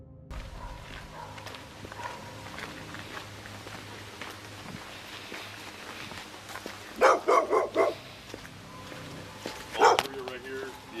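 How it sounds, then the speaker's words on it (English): An aggressive dog shut inside a car lets out a quick burst of four loud barks and later a single sharp bark, close and muffled, while people talk through much of the scene. "The aggressive dog is in the car, so just don't open it."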